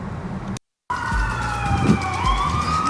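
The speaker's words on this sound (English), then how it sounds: "Police sirens everywhere." Police sirens wail through a city downtown near a legislative building, rising and falling tones that stay loud and close with traffic rumble underneath, briefly cut by a moment of silence.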